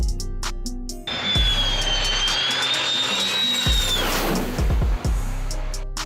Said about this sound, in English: The following jet nearly missed everyone on the ground.